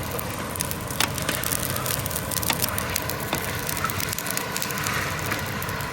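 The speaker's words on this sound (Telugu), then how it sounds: "ఎట్లా చిటపట్లు వస్తుంది చూస్తున్నారు కదా" Steady sizzling with scattered sharp pops and crackles of peanuts roasting in a hot pan, close and continuous throughout.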